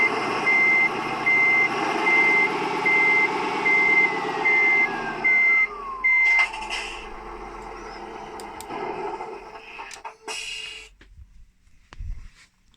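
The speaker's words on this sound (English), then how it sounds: "So when I want to reverse, I put it in reverse and then I press forward" A 3D-printed RC Komatsu HM300-5 dump truck puts out a steady series of high reversing beeps over its motor whine, near and loud for about six seconds. The beeping then cuts off as the motor sound falls away.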